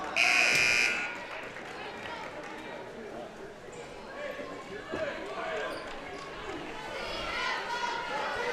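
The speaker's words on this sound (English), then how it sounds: "And that's the buzzer." A loud electronic buzzer sounds for about a second at halftime of a girls' and boys' varsity basketball game, followed by crowd chatter and a commentator talking over the gym noise.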